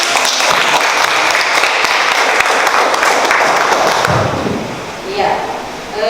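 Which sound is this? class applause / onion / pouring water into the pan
class applause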